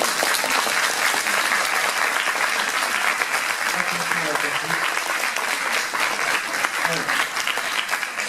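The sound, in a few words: audience applause for cosplayers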